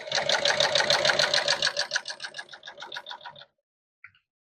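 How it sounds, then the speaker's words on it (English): Sewing machine running a long stitch along a chalk line on auto upholstery fabric, a steady rapid whir that slows toward the end before stopping, followed by a brief faint click. "Okay, so we're going to just start sewing these up. So we're just going to just sew right on that white chalk line."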